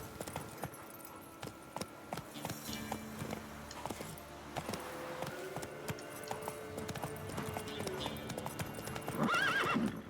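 A horse in The Witcher 3 trots and gallops with steady hoofbeats close by, whinnying and snorting repeatedly, a loud neigh near the end, over quiet game ambience.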